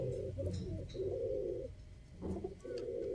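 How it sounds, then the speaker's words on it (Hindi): Sialkoti khaki pigeons coo in rolling, throaty phrases close by, two long bursts split by a short pause, fairly quiet with no talk. "सियालकोटी खाकी चूहे कबूतर"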